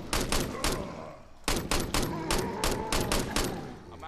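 Rapid gunfire from a weapon shooting at a zombie in the video game State of Decay: two quick volleys of sharp, loud shots, several in each burst, with a short gap between them.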